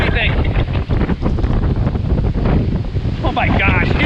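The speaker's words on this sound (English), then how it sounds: "Oh my gosh, huge gust!" Strong gust of wind roars loudly and continuously into the microphone outdoors near water, with buffeting rumble throughout and a person speaking under it.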